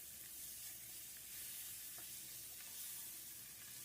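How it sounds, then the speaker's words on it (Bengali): Chicken Manchurian sizzles steadily in a hot pan as chili flakes and white pepper are stirred through, a continuous close frying hiss with faint scraping and no voices. "দিয়ে আবারও এই সব কিছু ভালো করে নেড়েচেড়ে নেব।"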